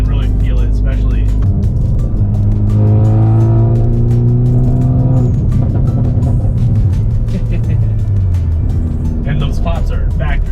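A 2021 Hyundai Veloster N with factory exhaust revs hard and climbs through the gears, its engine note rising and falling loudly up close, with crackling exhaust pops and people talking over the noise.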